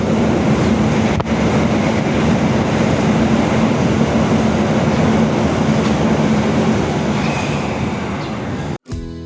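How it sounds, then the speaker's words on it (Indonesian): The Taksaka express from Yogyakarta to Gambir runs straight through Kebumen station without stopping, a loud, steady rolling rumble of wheels and carriages that carries on for several seconds before cutting off abruptly near the end. "Scenes diawali dengan melintasnya kereta api Taksaka dari Yogyakarta tujuan Gambir yang berjalan langsung di stasiun Kebumen"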